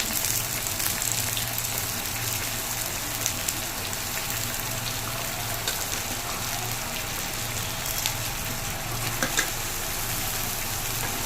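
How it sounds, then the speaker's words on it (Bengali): Cut vegetables for a morala fish curry going into a pan of frying onions and tomatoes, producing a steady, dense sizzle and crackle that carries on evenly throughout, close up with no talking. "ভাজা হয়ে যাওয়ার পর তারপর কেটে রাখা সবজিগুলো একে একে দিয়ে দেবো।"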